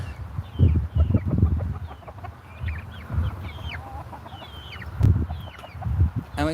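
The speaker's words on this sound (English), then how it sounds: "We got chickens." Backyard desert chickens cluck and squawk close by in repeated bursts, with low throaty murmurs between the higher calls and no voices.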